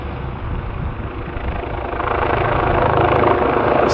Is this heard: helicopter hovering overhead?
yes